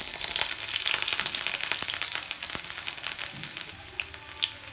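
Green chillies sizzle and crackle in hot oil in a kadhai, a close, bright frying hiss that holds steady for several seconds with small pops and no talk.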